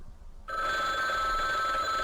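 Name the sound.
telephone ringing in the video game Bloodwash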